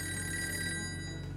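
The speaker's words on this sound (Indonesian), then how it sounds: "Gus, ada telepon, Gus." A telephone bell rings steadily with a bright, continuous electronic tone over a low hum, moderately faint and heard alone with no voices.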